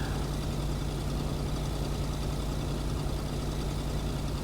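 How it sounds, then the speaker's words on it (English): A loud, steady engine drone from a vehicle being driven, a constant low rumble that fills the whole stretch without a break. "God, that engine is loud."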